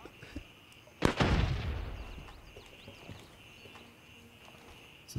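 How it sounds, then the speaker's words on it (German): Grenade explosion in the shooter game Gray Zone Warfare: one loud, close blast that decays into a long rumble, followed by faint ambient noise and a few light clicks. "Ich schmeiße jetzt hier rechts eine Granate hin."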